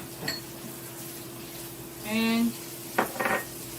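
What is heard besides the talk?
stirring pineapple rice with cilantro in a pan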